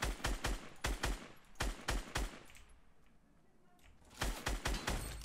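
Bursts of rapid automatic gunfire from the Fortnite Battle Royale video game, several close, loud volleys broken by a brief lull, with no talk over them.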